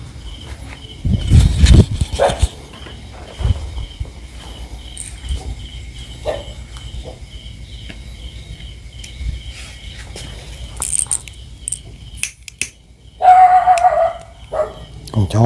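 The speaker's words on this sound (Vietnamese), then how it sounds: "chó nó sủa hoài" A dog barks repeatedly at night against a steady chirping of crickets, with scattered barks rising over the insect drone and people talking intermittently.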